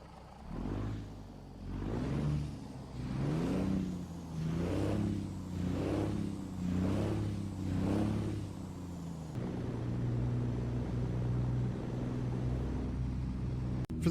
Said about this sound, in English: Now the next one is the MACK E6 straight pipe sound.